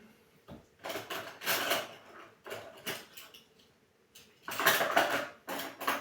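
Metal spoon clatters and scrapes against a bowl of instant noodles in irregular bursts, some louder than others, with brief quiet gaps between.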